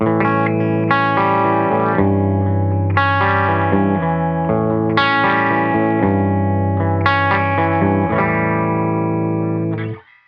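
An electric guitar runs through a Rainger FX Mini Drone effects pedal, playing distorted, shimmering sustained chords that change about every two seconds under a steady drone, then cut off abruptly near the end.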